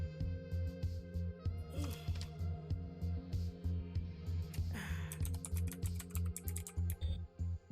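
Quick, light clicks of a computer keyboard as words are typed while playing the PC game Don't Forget Me, keystrokes pattering in uneven bursts over a steady droning music bed.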